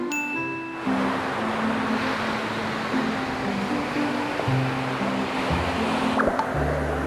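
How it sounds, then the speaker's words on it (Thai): A steady, continuous wash of sea waves fills the scene, with faint tinkling music tones drifting underneath. "อันนี้อยู่ติดทะเลเลย จะได้ยินเสียงทะเลด้วย"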